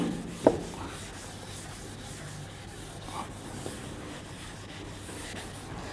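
Writing is rubbed off a lecture board in a steady, continuous scrubbing swish, starting with a brief knock and running on under a faint background hum.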